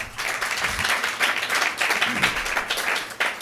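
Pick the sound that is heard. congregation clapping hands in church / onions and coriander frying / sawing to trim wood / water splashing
congregation clapping hands in church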